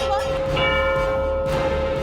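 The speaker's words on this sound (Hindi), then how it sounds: "अरे घड़ी का घंटा बंद नहीं हो रहा।" A clock bell rings on and on with a sustained, steady metallic tone that won't stop, loud and close, as people talk in alarm over it in a home.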